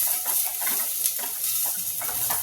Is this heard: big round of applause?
no